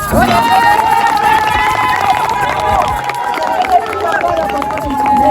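A church congregation at a mothers' prayer mountain gathering acclaims Jesus with loud, sustained crowd cheering and shouting, a dense wall of voices holding steady throughout.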